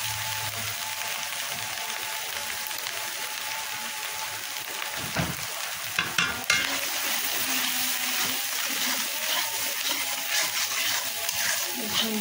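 Spice paste with ground potato and salt sautéing in a pan for a village-style fish curry with eggplant and potato, a steady close sizzle and hiss with occasional stirring scrapes, continuous throughout with no voices.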